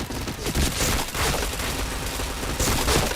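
Dense video game gunfire fills the stretch as a headshot chain is landed, rapid overlapping shots and booms crowding together loud and close throughout, with no gaps and no voices.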